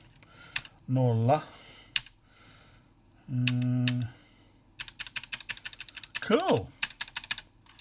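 Keys clack on the mechanical keyboard of a Cambridge Z88 computer in quick close runs of sharp taps, with a few short spoken words in between.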